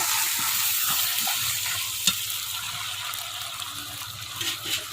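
Ground spice paste being sautéed and stirred in a pan for a rohu fish curry, with a steady close sizzle under scraping spoon strokes and one sharp clink near the middle, no talking.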